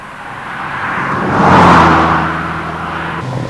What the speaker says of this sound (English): The tremendous torque produced by the Montego Turbo in its mid-range means that effortless performance is achieved without revving the engine hard.